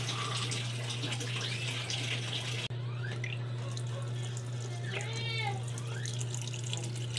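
Kitchen tap water runs steadily into a sink to cool boiled chicken feet for adobado, a constant moderate splash with a low hum beneath, a brief click partway through and faint background sounds near the end.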